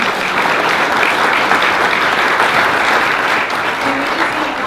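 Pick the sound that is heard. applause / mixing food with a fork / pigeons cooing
applause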